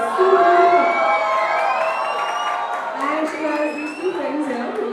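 A college event crowd screams and cheers loudly and continuously, with a voice talking over the roar through an amplified sound system.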